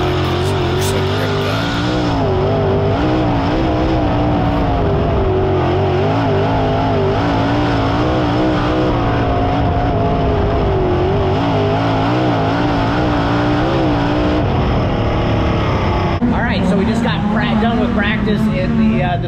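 Winged sprint cars race on a dirt track, engines screaming loud and continuous with rising and falling revs as they pass, with a sharper burst near the end.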